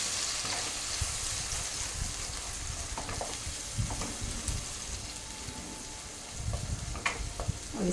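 Tomato puree goes into a hot pan for a Delhi-style aloo sabji served with moong dal kachori, giving a steady close sizzle with soft stirring scrapes and a brief louder bubbling near the end.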